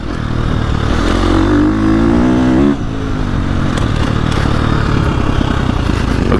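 A KTM 350XCF dirt bike engine pulling in third gear, a loud, close buzzing drone that climbs in pitch, dips briefly at a shift, then holds steady with rattling chassis clatter.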